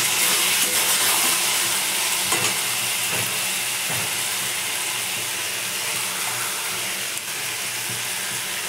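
Egg curry in a pan sizzles loudly and steadily as water is added, giving a broad, continuous hissing fry with a few faint stirring knocks, close and unbroken.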